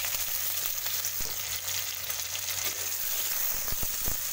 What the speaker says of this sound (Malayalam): നമുക്ക് അതിലേക്ക് നമ്മുടെ കഷ്ണങ്ങൾ ഇട്ടൊന്ന് വഴറ്റിയെടുക്കാം.